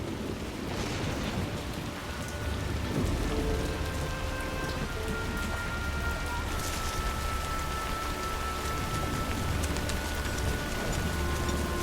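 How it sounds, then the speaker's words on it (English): Steady, heavy rain pours down on surfaces, a dense continuous patter at an even level throughout, with faint distant tonal sounds in the background and no voices. "We're just gonna stay here till the rain stops."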